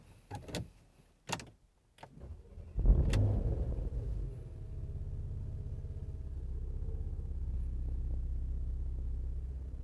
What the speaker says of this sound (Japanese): ではエンジンを始動します